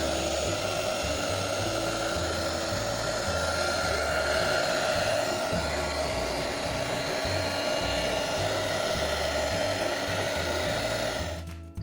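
A heat gun blows steadily on a flood-soaked electric motor, a loud, even roar of air and fan whine that holds for about twelve seconds before cutting off abruptly.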